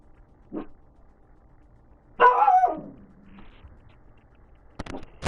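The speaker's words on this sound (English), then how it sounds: "that's a shout out from my dog Bowie" A pet dog barks indoors, giving a short yip, then a louder, longer bark with a whimpering tail, and more sharp barks near the end, separated by quiet gaps.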